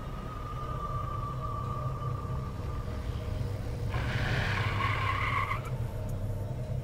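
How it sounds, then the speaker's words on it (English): A car pulls out and skids in the Command & Conquer Generals game, a loud tire squeal lasting about two seconds over a steady engine and battle drone, with no talk. "Suspicious car pulls out from behind."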